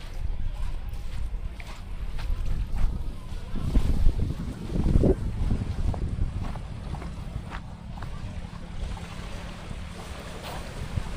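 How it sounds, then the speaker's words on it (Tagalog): Steady low rumble of a boat motor over water, with wind buffeting the microphone and lapping waves; the engine swells briefly midway, then settles. "Ay, bagong parating na boat."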